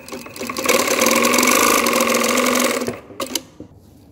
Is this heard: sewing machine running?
yes